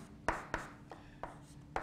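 Chalk or marker strokes on a board during a quantum mechanics lecture: five sharp, separate taps and scrapes in an uneven rhythm, close and fairly clear over a quiet room.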